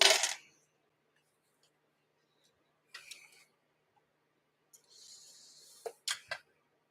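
Dice clatter for a tabletop dice baseball game, a sharp rattle at the start, then a few more brief clicks and tumbles spread out, the last cluster of bouncing knocks near the end, all alone in a quiet room.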